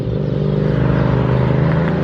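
A loud motorcycle engine drones steadily nearby, a low throbbing rumble that holds its pitch throughout.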